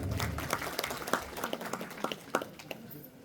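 A science exhibition prize-distribution crowd applauding, a short burst of many hands clapping with some distinct sharper claps standing out, fairly close and fading toward the end.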